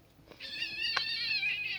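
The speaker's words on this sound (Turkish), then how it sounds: "Kediler savaşıyor." Cats yowl and caterwaul in a brief fight, a drawn-out, wavering high-pitched cry rising after a soft start and sustained to the end, heard close and alone.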